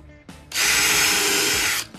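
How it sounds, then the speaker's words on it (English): A power drill drives a screw into a wooden beach chair during assembly, making one loud, steady whirring burst of about a second and a half, close by. "This one I pre-drill it and run one screw"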